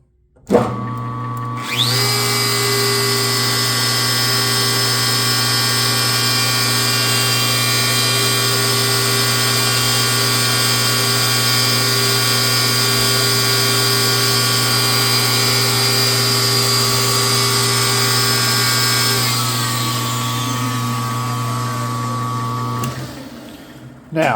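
A lathe with live tooling cuts threads on a butt cap, giving a loud, steady whining drone with a bright tonal edge that holds for about twenty seconds before easing down.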